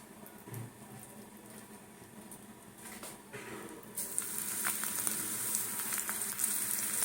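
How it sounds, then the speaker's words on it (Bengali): Pakoras frying in hot oil, a steady close sizzle and crackle that grows louder and brighter partway through, with faint stirring sounds and no talking. "চলো এবারে এই পকোড়াগুলোকে ভাজতে থাকবো"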